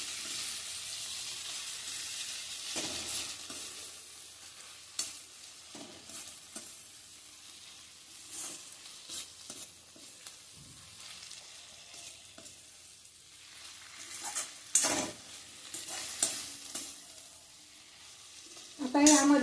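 Fresh grated coconut being sautéed in a kofta curry gravy, giving a soft sizzle with intermittent stirring scrapes and a few louder clinks, fairly quiet and without talk.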